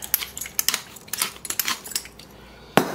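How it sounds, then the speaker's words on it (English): A pepper mill grinding black pepper onto ground meat for Greek meatballs (keftedakia), heard as a quick series of close, crisp clicks and cracks in an uneven rhythm, with one sharper knock near the end. "Okay, so good grind of pepper in there."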